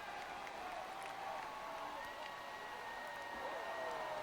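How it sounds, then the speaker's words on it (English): A distant stadium crowd in a baseball video game claps and murmurs softly and steadily throughout, with no single burst standing out. "It's weird this thing doesn't do louder applause."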